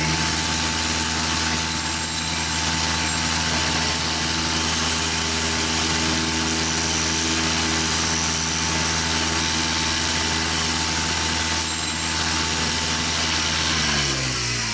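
A DIY four-facet drill bit grinder motor hums steadily while the heel is ground off a drill bit, a loud, even machine drone with a constant tonal whine for about fifteen seconds that winds down at the end.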